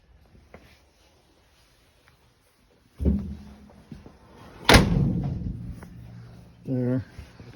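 Two solid thumps of a 1946 Ford's glove box door being shut, one sharp and close, with faint handling noise and a brief voice afterward.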